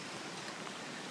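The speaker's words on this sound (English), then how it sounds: "The rain's getting worse." Steady, dense rain pouring down during a flood, a constant broadband hiss of water with no voices or breaks.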